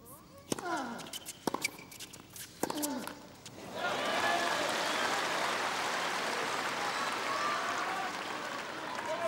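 Tennis crowd at the 2009 Australian Open men's final, Nadal against Federer, bursts into broad sustained applause at the end of a point, following a few sharp racket hits and court sounds, moderately distant and steady.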